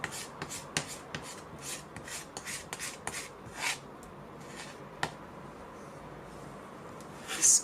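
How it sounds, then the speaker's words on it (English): Palette knife scraping sculpture paste across a palette: a rhythmic series of short, crisp rasping scrapes, close and fairly quiet, slowing toward the end. "again start scraping the sculpture paste from the other side of your palette knife"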